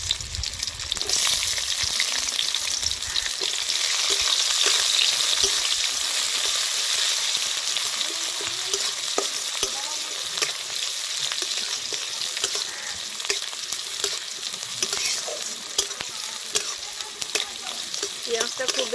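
Chopped onion fries with cauliflower and garam masala in a pan, producing a loud, dense, steady hiss of sizzling oil with frequent small crackles and stirring scrapes.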